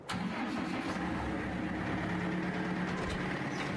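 A vehicle engine in a realistic farming video game starts with a sharp onset, then settles into a steady, rumbling idle that runs close and continuous.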